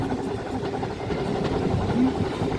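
Heritage steam train Judy, hauled with Uskmouth No.1 on the Dean Forest Railway, rumbling and hissing steadily from onboard, a continuous low rolling noise with no talk.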